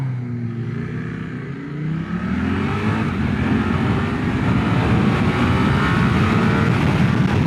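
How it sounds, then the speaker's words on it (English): Steady, loud wind roar buffeting a rider on a 2025 Suzuki GSX8R motorcycle, growing as speed builds, with the engine's drone beneath the rushing air. "There is a lot of wind. This bike produces a lot of wind."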